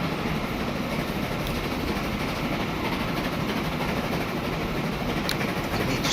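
Trains running in Transport Fever 2, with BR53 and Bavarian steam locomotives on the line, giving a steady rolling rail rumble and faint clatter of wagons throughout, with no talking.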